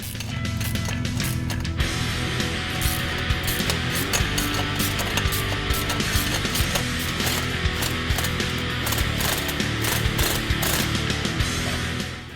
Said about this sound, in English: Tightening this clamp is going to be tricky. You're probably going to need some extensions in a universal socket.